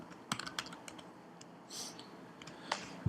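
Quick, light key clicks of typing on a computer keyboard come in a short irregular burst, faint and close, with no voices.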